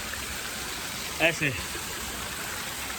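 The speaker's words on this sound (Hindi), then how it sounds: "मंदिर से होते हुए ये यहाँ भी झरना बहता रहता है" A waterfall flows beside a hilltop temple, giving a steady, soft rushing wash throughout while someone says a brief word over it.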